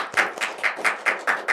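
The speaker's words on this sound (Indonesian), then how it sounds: "Tepuk tangan dong buat Iksan dong" A short burst of rhythmic hand clapping, several evenly spaced claps in quick succession, from a small group applauding a guest on a horror-story podcast.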